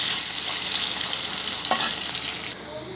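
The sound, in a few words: frying in oil, lightly like French fries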